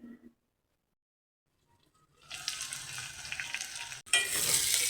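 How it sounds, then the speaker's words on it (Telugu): Eggplant pieces frying in a pan for a spicy garlic curry, a steady close sizzle that starts after a quiet pause, briefly cuts out, then returns louder. "వంకాయలు వేగినాయండి"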